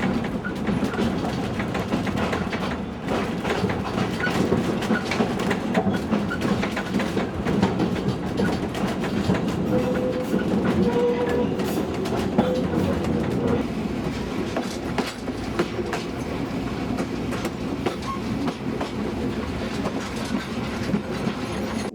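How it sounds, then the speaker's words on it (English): Inside a vintage wooden railway carriage hauled by a diesel train, steady rumbling rolling noise fills the space, with rhythmic clickety-clack of wheels over rail joints and occasional creaks, continuous and moderately loud throughout. "I'm just setting up to record the interior of the carriage"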